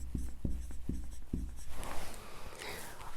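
A pen writes a word by hand on paper, with a few tapping strokes followed by a stretch of quick scratchy scribbling, close and fairly quiet.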